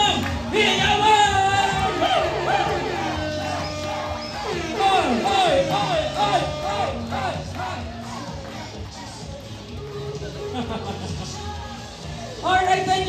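Wedding guests at a Filipino wedding reception shout, whoop and cheer together for the newly married couple, a loud sustained crowd roar with overlapping voices and rising shouts that dips midway and swells again near the end.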